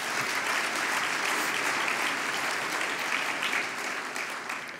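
Sustained applause from a convention audience for the outgoing president, broad and steady throughout before thinning slightly toward the end.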